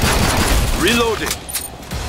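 A weapon reloads in Killing Floor 2, a few clicking mechanical clacks over dense, loud gunfire and battle noise, with a sweeping metallic whine in the middle.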